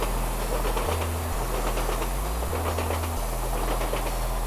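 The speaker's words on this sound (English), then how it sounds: "Another GO train." A GO commuter train passes steadily and loudly nearby, its low rumble and rail noise running throughout with rhythmic clacking and a faint hiss, heard over water.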